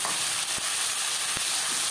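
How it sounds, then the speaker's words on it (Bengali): Marinated chicken hitting lightly fried onions in a hot pan, a steady close sizzle with two brief sharp crackles, no voices. "এবার দিয়ে দেবো ম্যারিনেট করে রাখা মাংস।"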